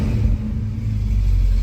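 A car engine with newly installed AutoMeter gauges runs and is brought up in RPM, a close, low rumbling idle with a slight rise, heard alone and briefly.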